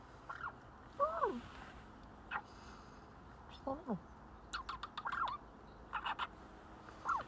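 A turkey gobbles in repeated short bursts, rapid warbling calls spaced through the clip against a quiet background, moderately close and fairly soft.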